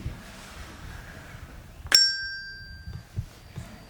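A single bell struck once by a performer at a school children's show, giving a sharp bright strike that rings on with a clear sustained tone over faint room murmur from the audience.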